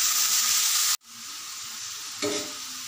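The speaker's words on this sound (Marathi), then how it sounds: "तर इथे बघा मी भाजी टाकून परतवून घेतली" Dill greens being stirred on a hot tawa give a loud, bright sizzle. It cuts out abruptly for a moment, then comes back steadily, with a short scrape of stirring near the end.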